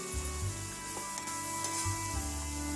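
Vegetables for a ridge gourd curry frying in a pan with salt, a steady low sizzle with a few soft stirring scrapes, close and quiet with no talking.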